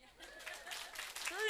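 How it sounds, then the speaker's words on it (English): An audience bursts into applause at a live storytelling event, a short swell of clapping that builds over about a second, with scattered laughter and a voice over it. "So please applaud the gopher tortoise."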